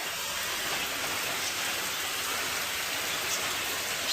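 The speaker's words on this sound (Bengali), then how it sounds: "আর বৃষ্টি শুরু হয়ে গেছে" Steady rain falling outdoors near a rural home, an even, continuous hiss of drops on surfaces, moderately loud and unbroken, with no voices.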